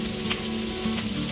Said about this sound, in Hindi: तेल गर्म होने के बाद हम डालेंगे 2 ग्रीन चिली और उसमें डालेंगे जिंजर गार्लिक का पेस्ट